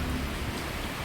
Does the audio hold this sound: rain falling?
yes